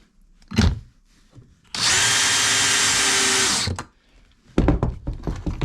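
A power drill whirs steadily for about two seconds, driving a brass screw into plastic while raising a toilet flange, with brief handling clicks and knocks before and after.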